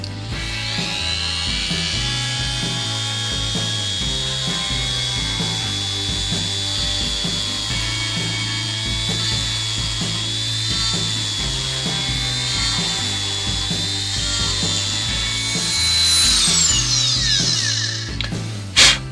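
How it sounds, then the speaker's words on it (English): A rotary grinding bit whines steadily against a spinning sapele wood bowl on a lathe, gouging texture around the rim; the high buzzing tone holds for the whole stretch over a low lathe hum, with a brief surge near the end. "sort of a grinding bit, I'm going to go round, and between these two marks just gouge away at it to make some texture"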